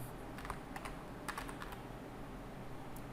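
Typing on a computer keyboard, a quick run of light key clicks over a steady low room hum, close and fairly faint.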